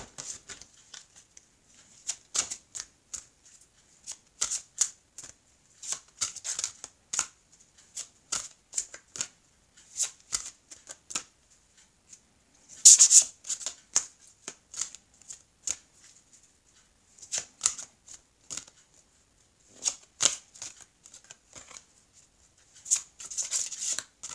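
A small deck of cards shuffled repeatedly, producing many short crisp riffles and flicks in irregular clusters, close and fairly clear, with no speech.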